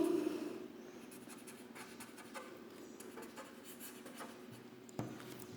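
Pen or pencil writing by hand on paper, a steady close scratching and rubbing of strokes with small pauses and a light tap near the end, no voices.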